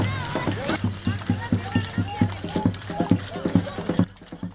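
Hooves of a horse pulling a carriage in a traditional wedding procession in Kalar clip-clop in an even, steady rhythm, close and clear, with people talking over them and a carriage rattling faintly.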